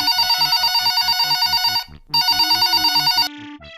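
A telephone rings in loud, rapid repeating trills, two bursts separated by a short pause, with no talking.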